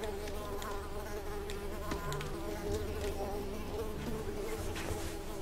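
Mosquitoes buzzing in the video game Unravel, a dense, persistent whining drone that fills the whole stretch, loud and close with no pauses.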